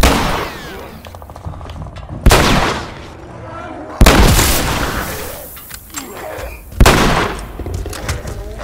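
Hunting rifle fire in The Last of Us Remastered, three heavy booming shots spaced a couple of seconds apart, loud and close, each ringing out with a long rumbling decay.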